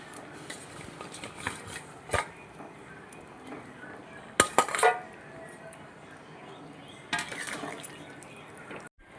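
Fried fish pieces being dropped into a simmering vegetable fish curry in a pan, quiet clinks and bumps of a utensil with a few louder wet clatters in the middle.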